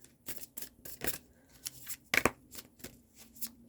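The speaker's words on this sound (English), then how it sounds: "Okay, one last shuffle." Cards are shuffled in quick, crisp riffles and taps, a series of short snappy bursts close by in an otherwise quiet room.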